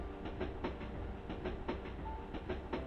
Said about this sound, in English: The train is crossing a bridge now.